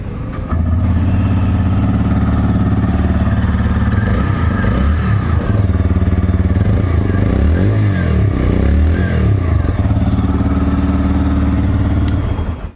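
A TVS Raider 125 motorcycle turns over and settles into a steady single-cylinder exhaust note close by, running loud and continuous for over ten seconds with a faint mechanical clatter and no talking.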